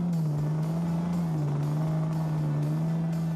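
Barry Sheene's 1984 Gold Cup-winning racing motorcycle, with a continuous loud engine drone holding a steady pitch that wavers slightly as the revs shift, heard at a race meeting.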